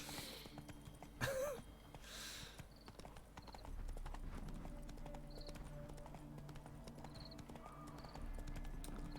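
Geralt's horse Roach in The Witcher 3: Hearts of Stone gallops with a continuous run of quick hoofbeats, fairly quiet under game ambience, with a brief whinny-like burst near the start.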